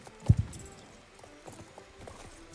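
Hooves of a horse in the Star Stable video game clip-clop, with one loud strike near the start followed by fainter, steady footfalls.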